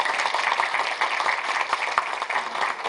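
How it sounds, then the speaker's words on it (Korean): An audience at the Hope and Alternative political forum claps steadily in a dense, continuous patter of applause with no talking over it. "박수 한번 쳐주세요"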